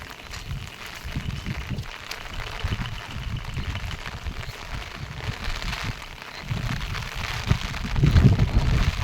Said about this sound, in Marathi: पाऊस जोरात पडायला लागला